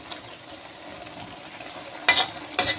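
Onion and bay leaf frying in oyster sauce in a pan, a low steady sizzle with two sharp stirring scrapes near the end, close by and no talking.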